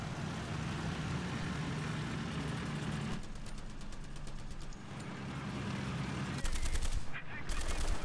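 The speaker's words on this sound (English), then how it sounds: "it looks like teammates are shooting at each other now" Tank gunfire in War Thunder, the T-50 engine rumbling low under rapid rattling bursts of machine-gun fire, with a louder volley near the end.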